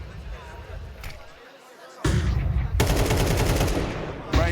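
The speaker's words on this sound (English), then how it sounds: "Brokey tries a wall bang" Wall bang gunfire in Counter-Strike during a Spirit versus FaZe grand final at the Shanghai Major, heard as a loud, dense burst of rapid shots that starts abruptly midway and keeps going to the end, under crowd noise.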